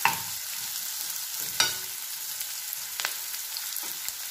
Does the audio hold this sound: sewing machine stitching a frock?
no